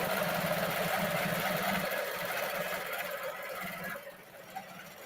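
A long arm quilting sewing machine stitches binding with a loud, steady whirring drone that eases off near the end, leaving quieter room tone and a single small knock.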